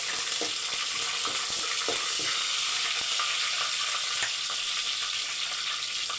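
Green chilies and curry leaves with fennel seeds frying in hot oil, a loud continuous sizzle with scattered pops and crackles throughout.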